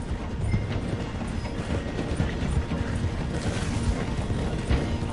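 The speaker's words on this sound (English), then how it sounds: "The train is slowing down to go through the station." A steam train in the game Red Dead Redemption 2 slows down for a station, heard as a dense, continuous rumble with rattling and clanking from the wheels and cars, steady and close throughout, with no talking.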